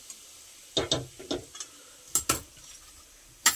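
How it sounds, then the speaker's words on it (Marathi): A spice mixture is stirred in a pan for stuffed brinjal, giving a few sharp spoon-against-metal clinks and scrapes spaced out over a quiet background, close and distinct with no voices. "आणि हे सगळं मिश्रण छान प्रकारे हलवून घेऊया"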